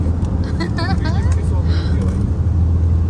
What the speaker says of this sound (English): Look at the traffic, guys.